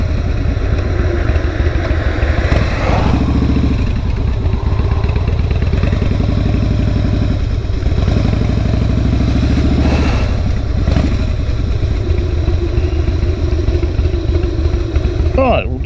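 Harley-Davidson motorcycle engine running steadily as the rider pulls over, a loud continuous rumble with slight revs and dips, up close throughout.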